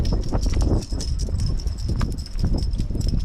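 Donkey hooves clip-clop steadily on a small road outdoors, a close, continuous rhythmic clatter with faint background chatter.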